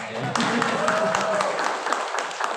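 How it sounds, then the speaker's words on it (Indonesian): Audience clapping at a seminar, a dense, moderate patter of many hands filling the room under a speaker's voice. "Tepuk tangannya kurang kenceng ya."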